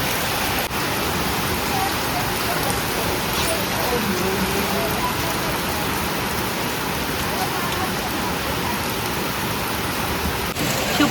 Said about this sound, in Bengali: আজকে সকালে ঘুম থেকে উঠে দেখছি বৃষ্টি পড়ছে